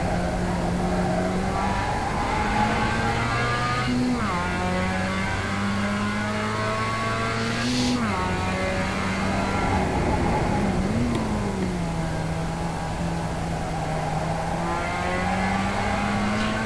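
Race cars run on a racetrack with one left-hand turn, engines droning and shifting pitch as they accelerate and ease off, a continuous layered roar at moderate distance.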